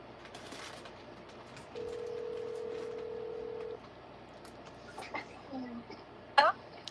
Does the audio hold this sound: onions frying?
no